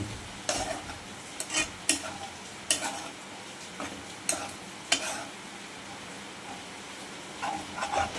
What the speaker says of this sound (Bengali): ঘিটাকে ভালো করে নাড়িয়ে নেব